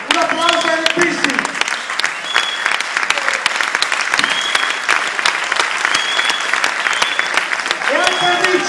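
An audience at a training forum bursts into sustained, loud clapping that carries on steadily throughout, with voices calling out over the applause.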